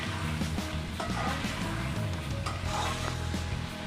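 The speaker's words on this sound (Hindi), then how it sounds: "7 से 8 अदद सब्ज़ मिर्चें इसमें साबुत ही डालनी, इनको काटना बिल्कुल नहीं है और अच्छे से इनको भूनना है" Whole green chillies fry in a karahi, a steady dense sizzle with occasional clinks and scrapes of stirring close by.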